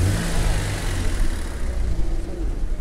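A 2016 seven-seat car with a Renault engine, fuelled by gas and petrol, runs with a close, steady, even rumble and no clear revving.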